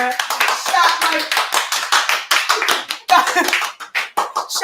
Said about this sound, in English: we're gonna just give them a round of applause